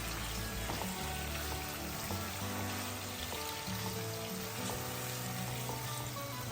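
Chicken with masala fries in ghee in a pan, a dense continuous sizzle with crackling and occasional stirring sounds, close and steady throughout, no talk.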